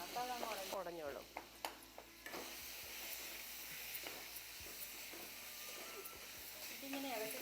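A spoon scrapes and stirs thick mango payasam in a pot, with soft rhythmic swishes and faint bubbling under a voice talking nearby.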